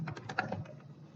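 A computer keyboard is typed on in a quick short burst of about half a dozen close clicky keystrokes, then falls quiet.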